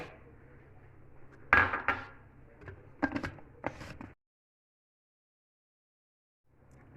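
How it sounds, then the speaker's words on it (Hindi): Ice cubes clatter into a container of mint lassi in a home kitchen, a few sharp knocks and rattles over about three seconds, close and fairly loud, followed by silence. "अब मैं इसमें बर्फ़ डालूँगी। बर्फ़ डाल रही हूँ।"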